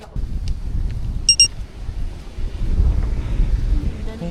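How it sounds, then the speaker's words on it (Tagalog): Gusty wind buffets the microphone outdoors on a Bali island tour near Nusa Penida, a rough low rumble rising and falling throughout, with a few brief high beeps early on. "Yan yung hangin."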